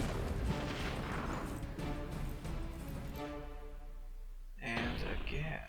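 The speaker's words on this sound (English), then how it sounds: "Hit him with the rocket." A rocket attack in the video game Battle Nations, heavy booming blasts and crashing impacts up front that fade into rumbling, with someone talking over them and another burst near the end.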